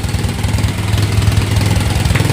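A motorcycle engine idles close by with a steady, rapid, throbbing putter and a slightly uneven low beat, running alone without talk.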